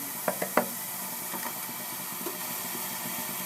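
Onions and curry leaves fry in hot oil for a beetroot gojju, a soft steady sizzle with a few sharp clinks of a spoon against the pan near the start, no voices.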